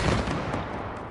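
Gunfire in the video game It Takes Two, a dense rattle of rapid shots filling about a second, loud and close with no talking.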